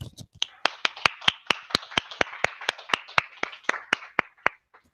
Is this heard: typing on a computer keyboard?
no